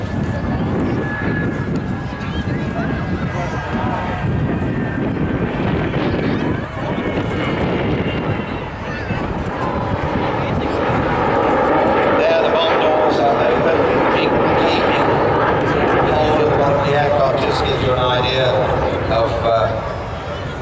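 A heavy, roaring jet rumble from an Avro Vulcan bomber flypast at an airshow builds steadily and swells louder over a windy outdoor background, with a commentator talking over it throughout.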